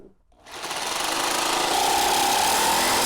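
A power tool starts up and runs steadily as it trims plastic cutting boards square, a loud sustained whine with a rough buzzing edge close by, no talking.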